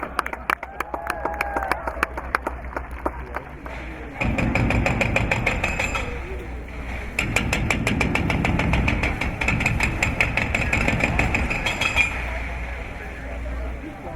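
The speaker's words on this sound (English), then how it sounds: "He's got the jackhammer going." A jackhammer pounds at a construction site at an airport new terminal groundbreaking, rapid steady hammering in long bursts with short pauses, mid-distance, among crowd noise and people talking.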